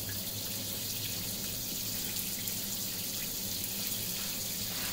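A dirty sponge being rinsed under running tap water, giving a steady, close, unbroken rush of water at a sink with no pauses and no talking.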